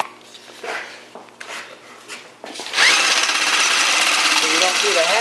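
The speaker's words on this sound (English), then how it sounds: "Then I'm gonna countersink" A drill whines steadily and close up while countersinking a screw hole in a rain guard on Al Capone's car under restoration, after a few seconds of quieter handling noises and brief motor bursts.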